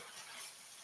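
Ground beef frying in a pan, a soft, steady hiss of sizzling with faint scraping from stirring, heard quietly and alone throughout.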